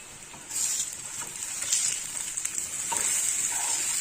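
Raw plantain slices fry on a hot dosa griddle, and a bright steady sizzle jumps up after a moment and carries on alone, close and even.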